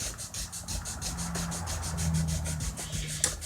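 800-grit sandpaper wet-sands the wood finish on a BC Rich Warlock guitar in quick regular back-and-forth strokes, a close, soft, rhythmic rasp that repeats several times a second, no talk.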